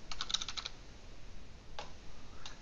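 Computer keyboard typing: a quick burst of several close keystrokes, then a pause and two isolated key taps later on, quiet and near with no talking.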